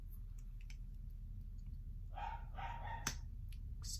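Dogs bark a few times in the middle of the clip, moderately close, over a low steady background hum.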